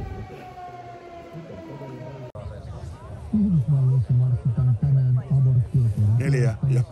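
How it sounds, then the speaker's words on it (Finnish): A hand-cranked siren being wound by spectators at the WRC rally in Jyväskylä, Finland: a sustained wailing tone that rises and falls, close and fairly loud, mixed with people talking nearby. "niin tuommoista käsiveivattavaa sireeniä"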